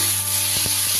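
Chopped tomato frying with spices in a hot pan, a constant hiss of sizzling broken by a couple of soft stirring knocks, with nobody speaking.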